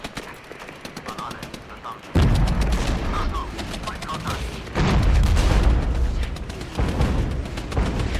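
Battle in the strategy video game Regiments: artillery and gunfire crackle in loud sustained volleys, swelling abruptly into heavier thudding barrages several times, with no clear talking.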